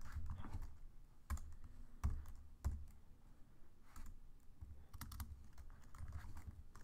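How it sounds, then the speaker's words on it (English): Python code being typed on a computer keyboard produces quick, irregular runs of close, crisp keystrokes with some louder clacks, and a low hum runs underneath. "I have to type something first"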